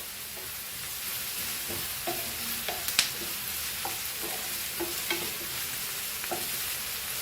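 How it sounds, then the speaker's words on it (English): Onions frying and sizzling in a pan while being stirred for Goan fried rice, a steady close sizzle with scattered light scrapes and stirring knocks, no talk. "So the onions are nicely fried."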